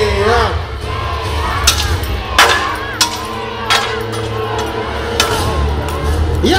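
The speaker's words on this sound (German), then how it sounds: "Applaus und Jubel für Georg!" Spectators at a knight tournament show at Schloss Thurn cheer and whoop in bursts. An announcer talks loudly over the crowd, and sharp clanks and shouts from the arena cut through.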